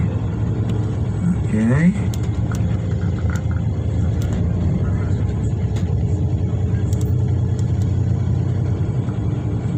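A tour bus drives through Jerusalem's old city, its engine rumbling in a steady, loud drone throughout while a voice speaks briefly over it.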